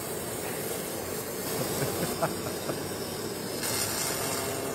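A Novarc spool welding robot welds a pipe spool at the FABTECH 2017 trade show, giving a steady close hiss with a few faint crackles over constant background noise.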